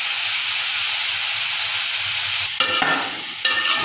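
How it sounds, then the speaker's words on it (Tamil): Mixed vegetables, including bottle gourd, sauté in a pan for prawn kuzhambu with a steady, loud sizzling hiss; stirring scrapes and clatters break in near the end. "இப்போ இதை நல்லா வதக்கி விட்டுக்கலாம்."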